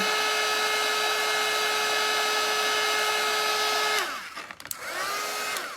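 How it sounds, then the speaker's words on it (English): A handheld hair dryer blowing on painted coffee filter flowers, a loud steady whirring hum with a high tonal whine that runs for about four seconds before the motor cuts and winds down, then briefly restarts. "I'm going to go ahead and take my blow dryer and I'm going to dry that real quick"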